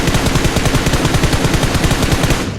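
Sustained rapid gunfire in a battle royale video game, a loud, close, continuous rattle of shots lasting the whole moment with no talking.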